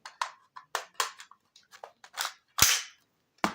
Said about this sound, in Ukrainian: Далі вставляю, значить, приєдную магазин.